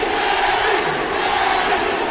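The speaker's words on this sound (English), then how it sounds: "The crowd obviously in Danny's corner. Very pro-Morales crowd we have here." A pro-Morales fight crowd roars steadily for Danny Morales, a dense continuous wash of cheering and shouting that stays loud throughout with no distinct speech.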